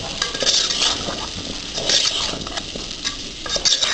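Spoon stirring a potato fry with coriander powder in a pan, making scraping clinks against the metal in irregular bursts over a light sizzle.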